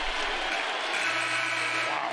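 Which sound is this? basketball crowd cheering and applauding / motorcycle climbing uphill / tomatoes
basketball crowd cheering and applauding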